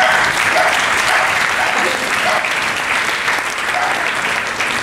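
Sustained applause from an audience at the opening of a festival ceremony in Cabourg, steady clapping throughout with a faint murmur of voices underneath.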